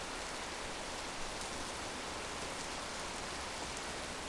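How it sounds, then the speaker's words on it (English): Steady, dense hiss of heavy rain in the OMSI 2 bus simulator game, pouring without pause, even and unbroken throughout with no voices. "So that's the sound of the rain"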